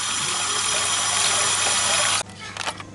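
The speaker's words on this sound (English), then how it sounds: "Bit more water in there." Tap water pours steadily into a cooking pot for about two seconds, then cuts off, followed by a few faint clinks and handling sounds.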